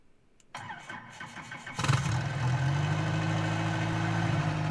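A piston aircraft engine with a rotor and no propeller cranks, coughs and catches at about two seconds, then settles into a loud, steady running drone. No one speaks.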